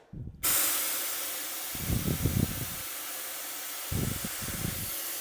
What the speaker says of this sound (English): Then we air it up once, and let it seat and expand and find its home inside the tire